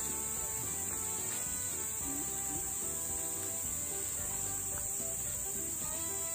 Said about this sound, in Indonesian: Ini 4 jangkrik Mas Bro.